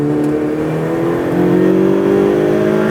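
Ferrari 488 Pista engine driving hard on a racing track, a loud, steady high-revving drone with rising pitch as it accelerates, close and continuous with no talk.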